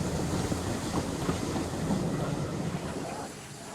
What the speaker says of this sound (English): Ivor took some loaded hoppers from the coal mines and made his way to the